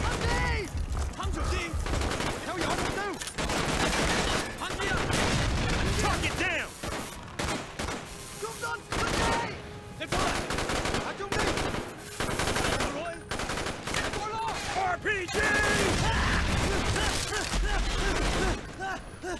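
Rapid bursts of automatic gunfire from the Call of Duty Black Ops video game, loud and close, with repeated volleys and short gaps between them. Someone talks at times between the shots.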